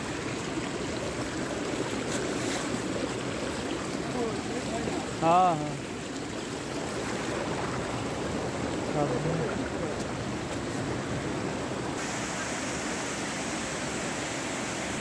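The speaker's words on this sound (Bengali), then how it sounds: "এটি হলো উশ্রী ঝর্ণা।" Usri Falls, a waterfall in Jharkhand, gives a steady broadband rush of falling water that runs evenly through the whole stretch, with a brief louder splash or bird-like call near the middle.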